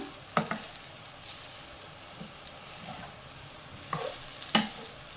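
Butter garlic paneer fried rice stirred in a pan over a soft sizzle, with a few sharp spoon clinks and scrapes against the metal at irregular intervals.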